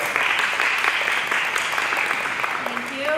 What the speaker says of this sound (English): Round of applause for Carissa.